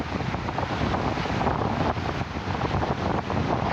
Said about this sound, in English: It's only windy up here.